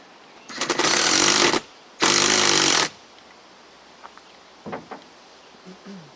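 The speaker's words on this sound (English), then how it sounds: "18-volt rigid. This little thing puts in work." A Ridgid 18-volt cordless power tool, used while installing seats and a console in a 5.3 Firebird, runs loud in two bursts of about a second each, then falls to quiet with a few faint knocks and handling sounds.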